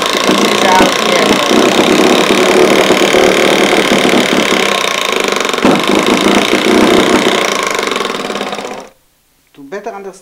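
A loud, steady uniflow steam engine runs with rapid rhythmic chugging and clatter, then cuts off abruptly near the end, followed by a brief low sound.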